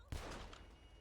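A single gunshot rings out in GTA 5 Online, a sharp close blast that decays into a long rumbling tail, fairly quiet overall.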